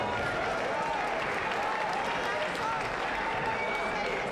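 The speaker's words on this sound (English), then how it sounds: "let's give both boxers a big round of applause" Crowd applause for two boxers after a fight at an amateur boxing event, steady dense clapping held at an even level throughout, with an announcer's voice faintly mixed in.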